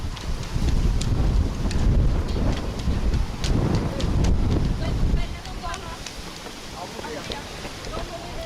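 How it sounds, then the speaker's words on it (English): Strong wind buffets the microphone outdoors on an island shoreline, producing a loud rumbling roar that eases after a few seconds, with people talking underneath. "It's very windy."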